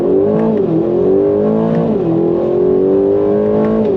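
A 2025 Aston Martin Vantage sports car accelerates hard on throttle, its engine note climbing through the revs, dipping at quick upshifts, then rising again. Loud and continuous from inside the cabin.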